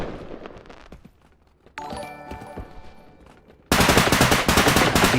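Video game gunfire, first scattered muffled shots under game sounds, then a dense, loud burst of rapid automatic fire that keeps hammering to the end.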